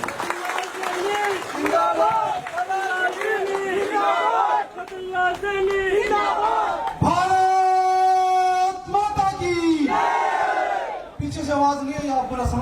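A large rally crowd in Sikar, Rajasthan bursts into loud applause and cheering with shouted slogans, while an amplified voice speaks over the din.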